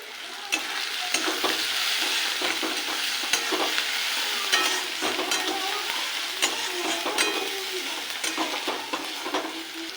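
Spices with salt, turmeric and chilli powder sauté in oil in a pan for an egg tadka, giving a constant bright close sizzle with scattered spatula clicks and scrapes throughout, and no voices.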